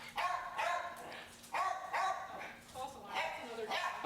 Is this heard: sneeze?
no